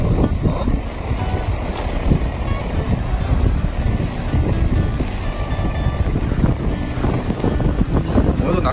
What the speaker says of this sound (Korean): 파도가 장난이 아니네.